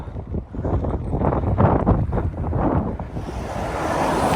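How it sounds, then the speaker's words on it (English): Strong, gusty gale-force wind buffets the microphone in loud rushing surges, with a low roar rising and falling throughout. "it's still windy, but the wind is not as strong as it was, but still pretty blustery"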